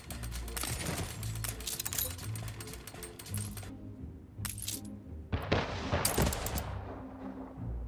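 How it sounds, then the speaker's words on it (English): A factory explosion in the city-building game Anno 1800 brings dense, crackling bursts of gunfire-like pops and rumbling over game music, broken by a short lull and then fresh sharp bursts near the end. "An explosion in one of your factories."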